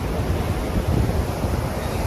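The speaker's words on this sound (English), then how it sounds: "all the waves crashing" Ocean waves crash on the shore, a loud continuous roar of surf with wind rumble, no voices.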